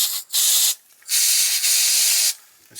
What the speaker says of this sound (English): I've got a kind of freezer spray here. So if I hit the sensor